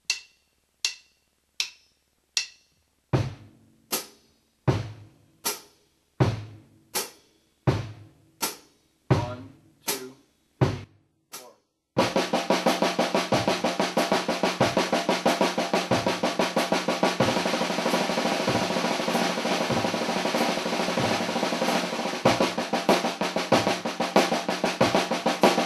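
A drum kit plays a steady pattern of crisp hi-hat ticks joined by thumping bass drum beats, then shifts into a dense, continuous wash of cymbal and drum playing.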